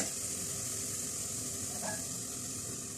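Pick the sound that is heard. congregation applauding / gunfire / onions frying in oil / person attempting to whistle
onions frying in oil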